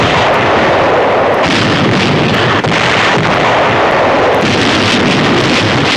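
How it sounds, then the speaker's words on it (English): Artillery pounding a German-held bastion in Cherbourg harbor with point-blank fire during the Second World War: continuous loud cannon blasts and rumbling barrage, dense and unbroken across the whole stretch. "Yank artillery cracks down on a Nazi bastion in the harbor as point-blank firing razes the last German"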